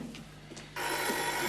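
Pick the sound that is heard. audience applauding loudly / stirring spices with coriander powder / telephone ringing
telephone ringing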